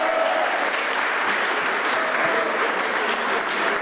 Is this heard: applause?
yes